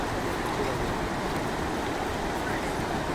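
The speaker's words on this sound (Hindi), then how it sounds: "ये पानी बह रहा है ना भाई, ये बहुत ज़बरदस्त स्पीड में" Fast-flowing water rushing at Ukai Dam near Surat, a loud, steady, broadband roar filling the whole clip with no pauses.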